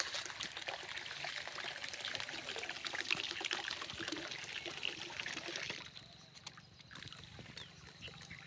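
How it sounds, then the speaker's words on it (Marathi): Water runs and splashes steadily into an empty animal trough on a farm, a continuous trickling pour that drops in level partway through, with faint outdoor ambience behind. "खाली हौद भरायला चालू आहे"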